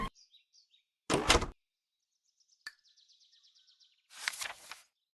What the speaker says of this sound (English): Pull the string and the door will open